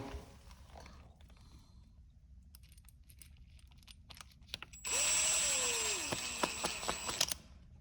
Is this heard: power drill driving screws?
yes